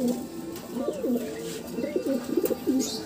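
Racing pigeon at a national race loft, cooing in repeated soft, throaty rolling phrases close by, with faint background clatter and no speech.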